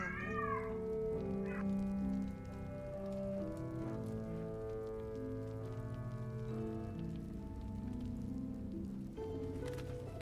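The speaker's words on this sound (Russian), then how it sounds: "Бать кот у тебя" A cat meows a couple of times near the start over a steady patter of rain, with a sustained tonal backdrop running throughout.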